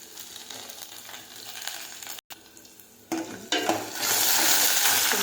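Chopped ginger and garlic frying in oil for a cauliflower and egg curry give a close sizzle. It briefly cuts out, then grows much louder and brighter as the pan heats up, with light utensil clinks.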